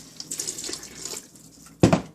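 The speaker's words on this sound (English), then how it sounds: "I'll be using 3 cups of water into it." Water poured into cooked dal for sambar, a soft splashing stream that ends in a brief louder gush, close by with no voices.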